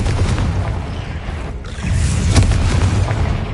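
Loud, dense spell explosions from the Confringo and Bombarda spells in the video game Hogwarts Legacy, booming and bursting continuously with a short dip before a renewed blast.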